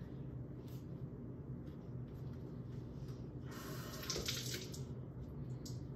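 Tap water runs steadily to re-wet a towel, a continuous rushing hiss of flow, with a brighter splashing surge partway through as the towel goes under the stream.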